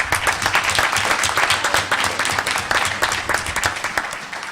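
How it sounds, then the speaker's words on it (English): A town board honors ceremony for Ramapo: an audience claps steadily and loudly throughout, dense overlapping hand claps with no single voice standing out. "Why don't we give all our honorees and all our participants a round of applause?"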